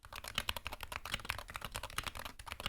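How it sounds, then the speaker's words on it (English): A stock Wooting 60HE keyboard, not yet modded, is typed on quickly with a dense, uneven rattle of sharp keystrokes, close and clear with no talking. "Everybody knows that the Wooting keyboard does not sound good."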